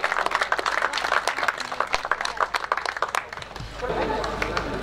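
Applause and clapping from an outdoor crowd at a 2016 Põlva motocross cup prize-giving, greeting the three fastest riders of the 200 class; dense steady clapping runs throughout, thinning toward the end, with background chatter.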